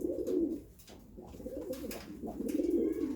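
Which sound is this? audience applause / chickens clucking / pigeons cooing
pigeons cooing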